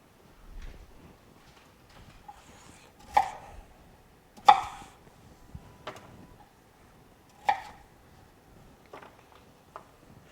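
A knife chops food on a board in the kitchen while fried marlin is cooked, a few sharp, separate knocks spaced irregularly over quiet background.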